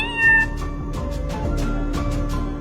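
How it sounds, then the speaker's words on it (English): A kitten meows in a short, high cry at the start, followed by softer repeated mewing over steady background music. "keeping the kitten out of Alessandra's reach"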